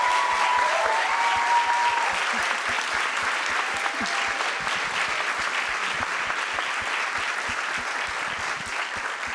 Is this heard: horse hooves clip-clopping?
no